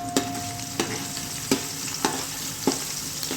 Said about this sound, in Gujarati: તેલ થઈ ગયું છે ગરમ. હવે એમાં નાખી દઈશું મરચાં.